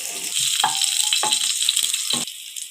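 Crushed garlic with mustard seeds and cumin sizzles hard in hot oil. The loud hiss is broken by a few stirring clatters and trails off slightly at the end.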